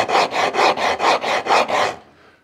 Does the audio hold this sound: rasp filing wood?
yes